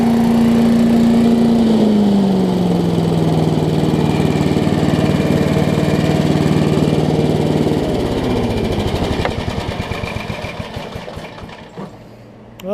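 A small 8hp Briggs gasoline engine on a Giant Vac blower runs steadily and loudly with a droning hum, its pitch dipping slightly, then cuts out and sputters to a stop near the end.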